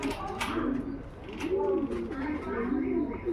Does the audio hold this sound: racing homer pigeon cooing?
yes